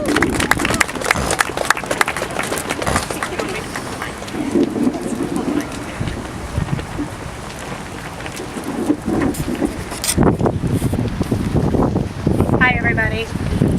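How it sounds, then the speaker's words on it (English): An audience gives a speaker a big round of applause, a broad, rain-like wash of clapping that swells and eases, with a voice starting to speak near the end. "let's give Tracy a big round of applause"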